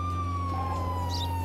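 Police siren in the video game Contraband Police, a loud sustained wail sweeping steadily over a heavy low engine drone, with no voices.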